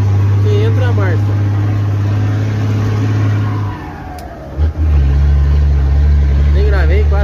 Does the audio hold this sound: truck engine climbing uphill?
yes